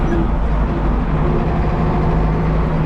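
A tractor engine rumbles deep and loud up close, a continuous steady drone as it drives along pulling a trailer.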